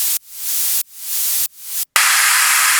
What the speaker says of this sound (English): let's go white noise